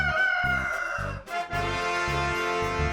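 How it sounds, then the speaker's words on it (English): A rooster crowing loudly over a bouncy musical backing, the call stretched out across the short passage. "Let's see what sound the rooster makes."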